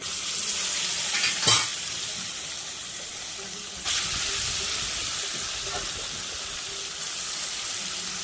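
Ambadi (roselle) leaves fried in a tempering of curry leaves and asafoetida in oil, giving a steady close sizzle and hiss with a few sharp stirring clinks, and no talking.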